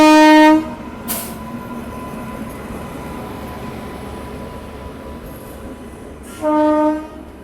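Kamrup Express train on a diverted route at a station: a loud horn blast opens, a short bright squeal follows, then steady rumbling and rail noise as the train passes, and another horn blast sounds near the end.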